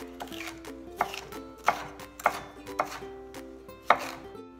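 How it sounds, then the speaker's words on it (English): A chef knife slices through a vegetable on a cutting board in five crisp, evenly spaced chops, close and fairly quiet, with no talking. "We can make slices."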